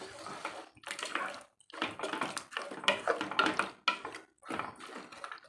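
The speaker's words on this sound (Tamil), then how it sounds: "தயிர் சேர்த்து நல்லா கிளறி விடுவோம்" Yogurt is stirred into mutton bone kurma in a pot, producing wet, squelching sloshes and clinks of a spoon against the vessel in irregular strokes, close and fairly soft with no voices.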